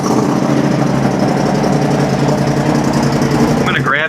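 A Polaris RZR Turbo R UTV engine runs steadily at close range after being restarted, a loud continuous throbbing drone with a brief voice near the end.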